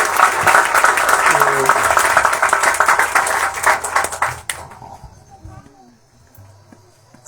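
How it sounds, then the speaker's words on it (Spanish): A church congregation claps for a sister in a burst of dense, loud applause lasting a few seconds, then fading to scattered claps and quiet room noise, with voices speaking over it. "Damos un aplauso a la"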